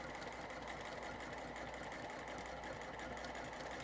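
Close, steady whirring of a sewing machine stitching half-square triangle quilt pieces, continuous and even for a few seconds with no talk.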